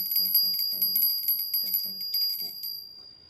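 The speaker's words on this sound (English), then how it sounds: "we say the prayer 3 times while we're ringing the bell" A small bell rings steadily during a Hindu food offering while a voice chants a prayer over it, the tone close and clear.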